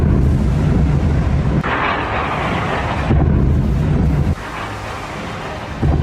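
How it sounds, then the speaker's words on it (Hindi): Heavy, booming low rumbles of explosions in Kyiv during the Russia-Ukraine war roll in waves with wind buffeting the microphone, a series of deep blasts each sustained for a second or two. "एक के बाद एक 4 धमाके"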